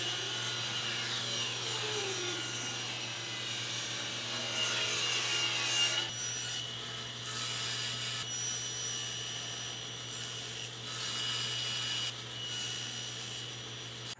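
A saw rips a length of 4/4 stock into a strip about 1.5 inches wide, a steady loud cutting drone under a constant motor hum that runs for the whole stretch with a few shifts in tone.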